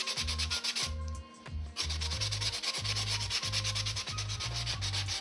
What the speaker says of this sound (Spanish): Ahora lijaré los bordes para eliminar el papel sobrante.